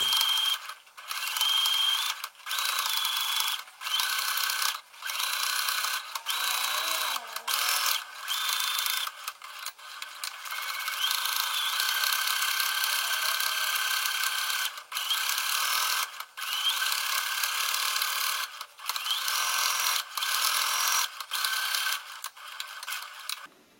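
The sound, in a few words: sewing machine topstitching seams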